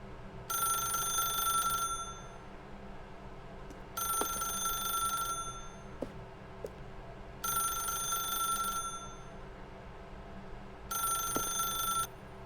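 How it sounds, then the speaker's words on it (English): An old-style telephone rings in The Stanley Parable video game, four evenly spaced bursts of bright electric bell trilling, each about a second and a half long, over quiet room tone with faint clicks between rings. "then pick up the phone"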